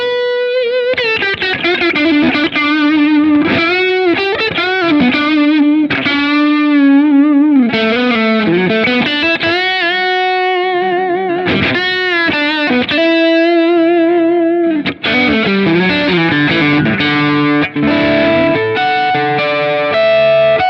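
Electric guitar lead through a Bias FX 2 Mobile rock distortion tone: a continuous, loud, saturated line of bending, sliding notes with heavy sustain and chorus-like shimmer, played alone.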